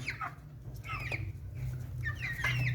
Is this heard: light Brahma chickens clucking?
yes